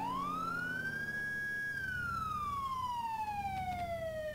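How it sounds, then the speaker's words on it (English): A video game police siren in the GTA IV LCPDFR mod wails steadily, sweeping up then slowly falling in pitch, loud and close over a low engine rumble. "I forgot to turn the siren off"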